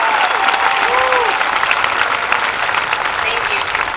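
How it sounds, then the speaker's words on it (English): A commencement audience at a June 2024 Fremont Ross high school graduation applauds steadily throughout, a dense, sustained wash of clapping that stays loud and even, with faint crowd murmur mixed in. "Let's give them all a round of applause."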